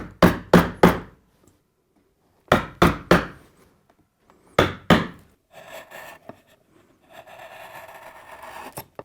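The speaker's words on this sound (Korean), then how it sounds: "계속 끌과 망치로 탈 모양이 다 될 때까지 계속 깎는" A chisel driven by a hammer carves a wooden Hahoe mask: sharp strikes in quick groups of three, three, then two, separated by pauses, followed by softer scraping and shaving of wood.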